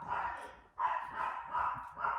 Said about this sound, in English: That dog making that racket weighs 7 pounds.